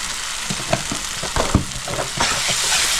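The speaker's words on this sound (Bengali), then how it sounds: "ভালো করে মিক্স করে নিচ্ছি।" Chicken gizzards sizzle and fry with spices in a hot pan while being stirred, with scraping strokes of the spoon and a steady loud crackle throughout, no voices.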